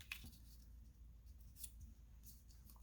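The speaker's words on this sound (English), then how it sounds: "So I'm going to cut just a little bit more." Scissors snip through paper while cutting out fussy-cut gift tags made from master boards; a few quiet, brief cuts come close together, with faint handling noise between them and no talking.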